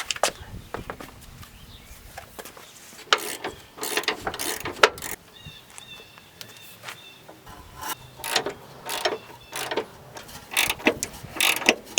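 A ratchet clicks in short, uneven bursts while loosening rusty rear upper control arm bolts on a Mazda Miata, with metallic clacks and handling noises close by and no talk.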